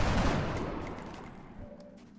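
A burst of gunfire in the video game XCOM: Enemy Within with the Long War mod, loud at the onset and decaying over about two seconds as a dense rolling volley with no voices.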